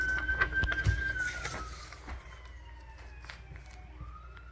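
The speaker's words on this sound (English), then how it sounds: "There's sirens." Sirens wail outdoors, a distant gliding tone that slowly falls and rises, heard faintly beneath birdsong and low background rumble.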